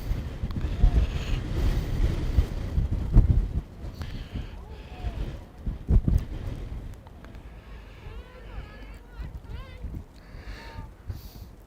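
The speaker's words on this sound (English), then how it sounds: "Hear that wind." Wind buffets the microphone at an outdoor girls' varsity soccer match, making a low, rumbling roar in uneven gusts under a commentator's voice and faint field sounds.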